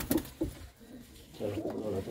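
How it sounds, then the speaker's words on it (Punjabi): A red China pigeon coos in low, soft bursts, two short notes at first and then a longer rolling coo, close by and fairly quiet. "ਇਹ ਇੱਕ ਲਾਲ ਚੀਨਾ ਕਬੂਤਰ ਜੀ"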